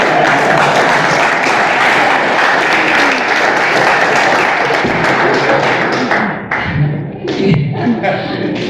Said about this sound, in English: I'm waiting for applause here.